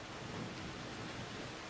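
Steady heavy rain hisses over a low rumble of thunder, a continuous dense wash of noise with no voices.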